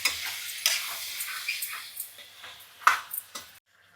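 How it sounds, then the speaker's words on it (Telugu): Masala with turmeric, chili and salt stirred in a pan for chicken curry, a close series of scraping strokes over a soft sizzle, then silence. "ఒకసారి మళ్ళీ కలుపుకుందాం, దగ్గరకు వచ్చేటట్టు కలుపుకుంటే సరిపోతుంది"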